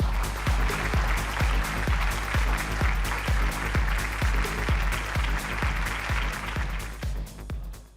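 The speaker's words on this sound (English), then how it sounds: "A big round of applause for both of them" A conference audience applauds two founders walking on stage at a digital lending summit, a dense, loud wash of clapping with a steady thumping beat running through it, fading at the end.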